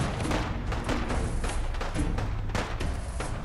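Artillery strike in Fallout 4 Far Harbor, shells landing nearby as a dense run of heavy thumps and booming blasts, loud and close, a few sharper hits standing out over a continuous rumble.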